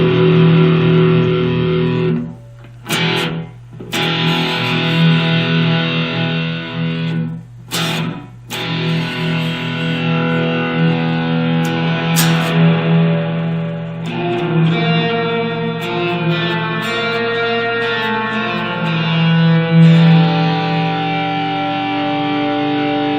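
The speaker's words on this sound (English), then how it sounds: "that's definitely a spring sounding reverb" Electric guitar played through a Valeton Coral MDR pedal set to spring reverb, strummed chords and notes with a splashy, drippy reverb tail, a few abrupt pauses early on, then continuous ringing playing, close and fairly loud.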